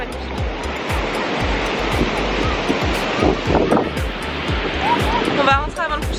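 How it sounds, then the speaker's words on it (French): Surf rolls steadily onto a beach in Bali, a continuous loud wash of breaking waves with wind buffeting the microphone, while a few faint bird or voice chirps surface near the end. "Vraiment, plage magnifique."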